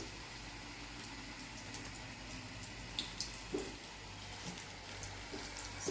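Batter-dipped leaves frying in a pan of hot oil make a steady, soft sizzle, with a few small pops and crackles that rise out of it now and then.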